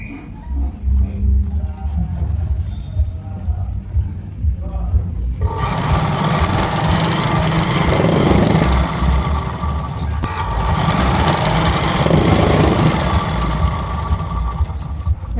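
A sewing machine stitches a fall onto a saree, its fast, loud mechanical whirr running steadily after a quieter start, with a short pause before the stitching resumes.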